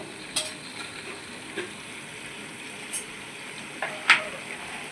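Soft frying sizzle of mint and coriander with green chillies in a pan for spicy chicken dum biryani, with a few light stirring clicks and scrapes over a low steady hiss.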